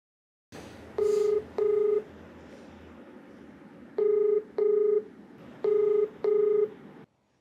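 A telephone number is keyed in for a call: six loud, clean touch-tone beeps come in three quick pairs, with short gaps between them, over a faint line hiss.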